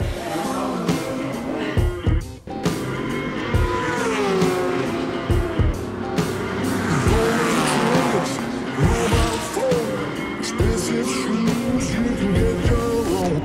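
A BMW motorcycle lapping a race track, its engine loud and close, revving high and sweeping up and down through the gears in a continuous run.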